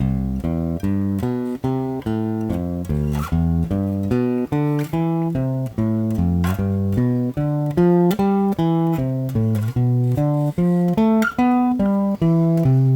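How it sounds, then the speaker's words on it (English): Low plucked bass guitar notes climb and fall in repeating arpeggio patterns at a steady, even pace, played solo without any talking. "we're going to practice ascending and descending with your arpeggios"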